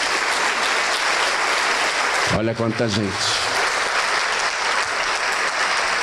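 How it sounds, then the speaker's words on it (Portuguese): A church audience applauds at a worship service, with loud, continuous clapping from a large crowd throughout. A voice speaks briefly over it partway through. "vamos aplaudir ao nome de Jesus"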